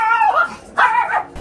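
A dog gives two short, high, whining yips or barks in close succession, close and fairly loud, with no talking over them.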